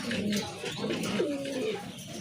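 A pair of Danish pigeons coo close by, with low, soft, rolling coos repeating steadily over a faint background hum.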